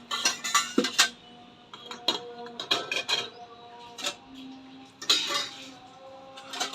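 Bowls and dishes clatter and clink as they are loaded into an IFB dishwasher, with a close, irregular run of ceramic and metal knocks and chimes, no talking.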